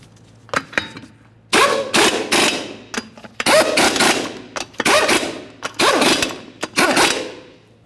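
An impact wrench runs all five 21mm lug nuts onto the front wheel of a 2012-2018 Nissan Altima. The result is loud, close, repeated whirring bursts separated by short pauses.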